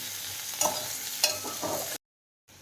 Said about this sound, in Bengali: এখানে পেঁয়াজ রসুনটা প্রায় ভাজা হয়ে গেছে ভাজা ভাজা